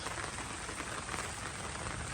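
Light rain easing off in a rural Thai village, a steady soft hiss of drizzle with no distinct drops standing out, even and faint throughout.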